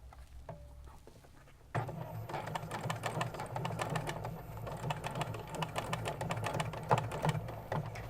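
Sewing machine stitching a sleeve seam on a garment: after a quiet start, the machine starts abruptly into a steady, fast mechanical rattle and hum that runs close and continuous to the end.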